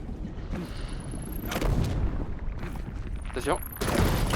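Grenade explosions in the video game Journey to the Savage Planet, heavy booms and bursts over a constant rumbling game soundscape, with a person speaking briefly over the action.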